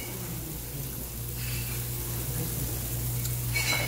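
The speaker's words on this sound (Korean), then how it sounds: "지글지글 소리 좋다." Pocheon Idong galbi (marinated beef short ribs) crackling on a grill at a long-running galbi restaurant, a steady close sizzle with a low background hum and no talking.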